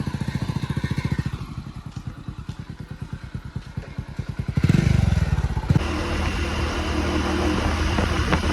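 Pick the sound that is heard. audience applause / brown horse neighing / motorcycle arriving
motorcycle arriving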